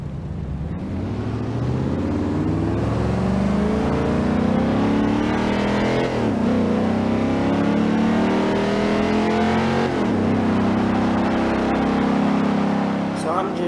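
A 2014 Corvette Stingray's engine drones loud and close as the car rolls along slowly, its pitch climbing and dipping in steady waves through gentle throttle changes, with a voice talking over it.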